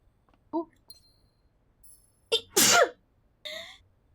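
A single sharp, close sneeze bursts out during a Blue Prince video game session, preceded by a short inhale and followed by a brief voice, with quiet speech moments earlier.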